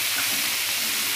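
Ganake greens frying in oil in a pan, a dense steady hiss of sizzling, close and unbroken for a brief moment.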